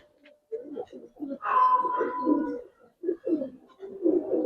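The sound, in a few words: pigeons cooing in a loft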